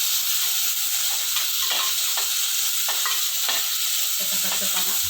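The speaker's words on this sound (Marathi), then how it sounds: "आपण हे पहिले हे आलं, लसूण आणि कांदा भाजून घेऊ" Ginger, garlic and onion fry in hot oil for a chole curry, a continuous bright sizzle with scattered crackles and soft stirring scrapes, close and steady.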